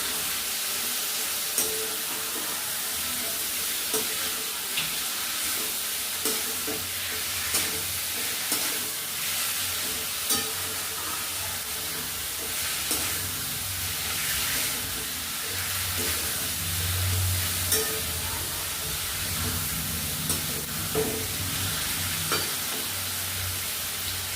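Mutton sizzles and fries steadily in a pan of cooked-down spiced masala, giving a continuous hiss with occasional stirring scrapes and small pops.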